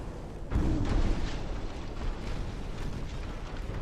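A torpedo strikes a warship in the naval game Ultimate Admiral Dreadnoughts, setting off a heavy, low rumbling blast that hits abruptly and then rolls on as a sustained roar, with no speech over it.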